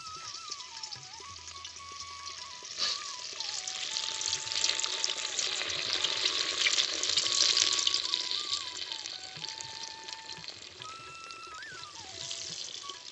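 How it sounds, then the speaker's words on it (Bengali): Cabbage and masoor dal pakoras fry in hot oil, a steady close sizzle and bubbling that swells in the middle, with faint utensil stirring. "বেশি দেবো না, 3-4টে করে আমরা দিয়ে দিয়ে ভেজে নেবো ব্যাচে ব্যাচে।"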